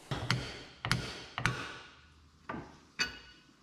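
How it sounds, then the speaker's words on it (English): A brass hammer tapping out a tight pivot bolt on the 40-year-old front suspension of a DeLorean, giving five sharp, separate metallic knocks in an uneven rhythm, each fading quickly into a quiet workshop background. "This is what brass hammers are for"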